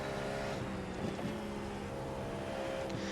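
The engine of a Cadillac V-Series.R race car in the iRacing sim at Canadian Tire, a steady loud droning roar held throughout with little change in pitch, no talk.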